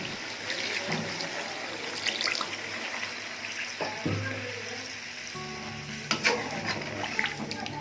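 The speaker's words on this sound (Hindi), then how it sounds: "तो अभी पानी ऐड करेंगे, एक गिलास पानी आपने ऐड करना है।" Water from a glass is poured into chicken karahi that has just been fried, a steady close trickle and splash with sizzling underneath, running for several seconds without talk.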